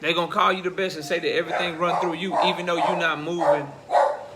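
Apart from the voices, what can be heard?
dog barking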